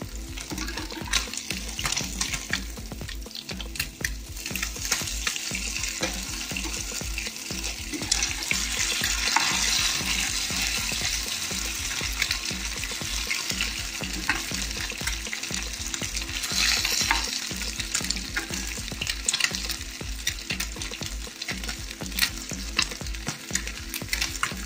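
Anchovies (kozhuva) frying in hot oil for a crispy Kerala-style fry, a loud continuous sizzle with bubbling crackle and stirring scrapes that swells mid-way and holds steady.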